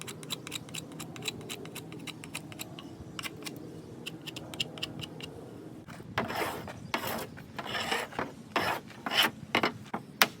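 A blade scrapes wood into shavings and feathers for tinder: quick, rasping strokes come in rhythmic bursts, lighter at first, then louder and coarser in the second half, close to the ear with no talking.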